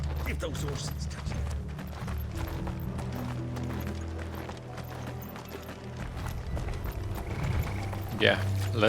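Horses galloping in Final Fantasy XVI, steady hoofbeats running under a game music score with a brief spoken exchange over them.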